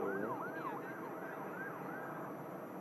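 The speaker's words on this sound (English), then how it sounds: "Yeah, I can hear them sirens again." Wailing sirens rise and fall in a steady repeating sweep at Manchester Airport, heard from a distance over a constant low background rumble.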